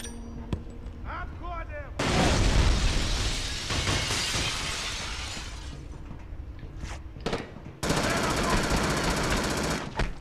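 Gunfire and grenade blasts in the PS2 shooter Black: a few sharp shots, then a loud burst of explosions and heavy firing that decays, followed by another dense roar of gunfire, with talking mixed in.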